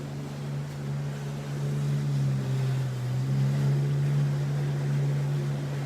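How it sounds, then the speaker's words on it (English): A jet ski moving slowly across ocean water near a beach, its steady engine drone holding close and even, with wind and surf underneath. "Another really slow jet ski."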